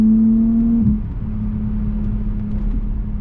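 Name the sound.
Lexus IS 300 engine with a slight backfire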